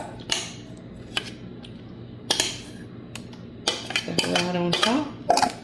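Tomato pie topping mixture is spooned onto a crust in a hot pan fresh from the oven, with a few sharp clinks of a metal spoon against cookware, soft scraping, and a busier cluster of clatter near the end.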